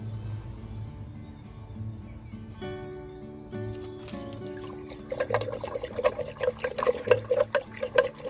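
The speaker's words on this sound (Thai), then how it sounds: "ใส่ใส่นี้ไปด้วยครับ จุลินทรีย์สังเคราะห์แสง ใส่ไปนิดหนึ่ง" Photosynthetic bacteria liquid being poured into an eggshell fertilizer mix, a close splashing trickle starting midway, with bird calls in the background.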